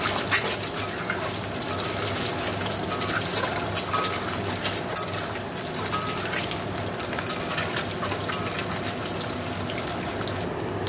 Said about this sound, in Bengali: তো কড়াইতে তেল দেবো।